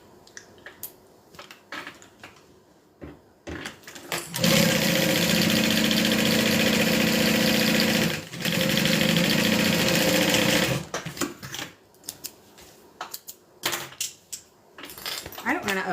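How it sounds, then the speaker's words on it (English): A sewing machine stitches down bag fabric for a crossbody bag in a steady, loud run of about six seconds with a short pause, framed by quieter handling clatter before and after. "Sew it down."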